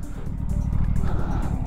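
A 2025 Aprilia Tuono 457 motorcycle being ridden, its engine burbling and road rumble close to the rider's microphone for a brief moment, with a rider's voice talking over it.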